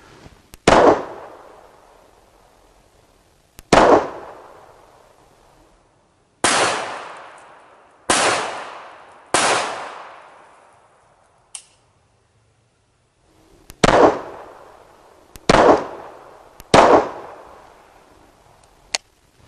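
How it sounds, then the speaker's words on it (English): Bersa Thunder 380 pistol firing leaded round nose rounds at a range: about ten sharp, loud, close reports with short echoing tails, spaced irregularly a second or more apart, with small clicks between and no talking. "I'm going to shoot 5 more rounds now and see how well it does."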